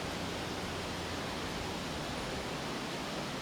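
A shaded waterfall cascading steadily, a dense, even roar of falling water with no breaks, close and constant throughout.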